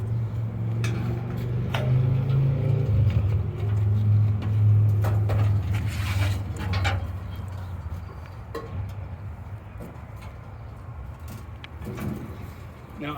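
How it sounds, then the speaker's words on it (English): A scissor lift at a rental yard hums as it raises, a steady low motor drone for several seconds that fades, with scattered clicks and knocks around it. "let's hop inside this scissor lift and we can go up"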